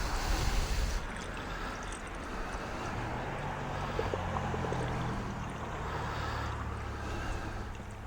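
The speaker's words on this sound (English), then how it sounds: "I can hear it coming out the back." Water flushes out of a 1976 Mercruiser 120hp boat engine's exhaust in a steady low rush, churning and splashing, continuous and fairly quiet, with a faint hiss over it.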